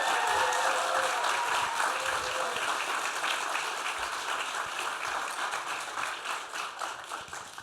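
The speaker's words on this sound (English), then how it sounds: "I think we first start off with another round of applause for amazing people." Applause from a Q&A audience rolls on steadily as a dense wash of many clapping hands, slowly fading toward the end.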